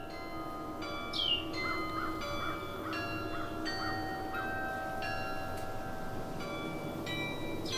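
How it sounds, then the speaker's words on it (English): Carillon tower bells ring in a slow sequence of clear, sustained tones, each strike leaving a lingering hum, heard at a moderate distance, with occasional bird calls in the background. "This is the instrument that allows one person to play multiple tower bells."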